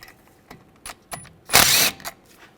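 Socket wrench working a brake screw with a 6mm hex socket on a 2007–2013 BMW 328i, giving a few soft mechanical clicks and then a short, loud ratcheting whir close by.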